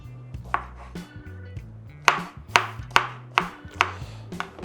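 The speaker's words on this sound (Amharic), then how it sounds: "ቲማቲም ቀጥሎ እንከትፋለን።" Tomatoes being chopped with a knife on a board for Ethiopian ful, a series of sharp, evenly spaced close chops, about eight in all, with light handling noises between them.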